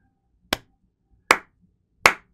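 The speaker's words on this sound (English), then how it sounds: "I'm gonna count it and clap" Three single hand claps ring out sharply and evenly spaced in a quiet room, each a crisp close slap with a short decay, no voice present.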